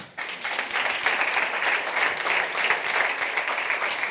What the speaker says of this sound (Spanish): Un aplauso para Marcos